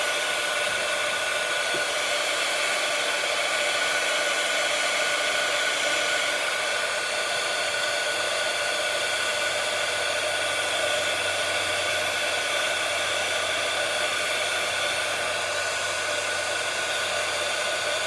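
Hair dryer blowing on a wet watercolor flower painting, a loud steady roar held continuously and close, with no talk over it.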